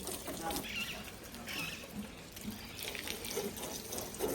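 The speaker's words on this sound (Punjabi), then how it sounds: "ਪਹਿਲਾਂ ਆਪਾਂ ਨਾਰਮਲ ਪਾਣੀ ਨਾਲ ਸਾਫ਼ ਕਰ ਲੈਂਦੇ ਆ" Plain water is sprayed over something to rinse it on a farm. It makes a steady, close hissing rush that runs the whole time with slight surges.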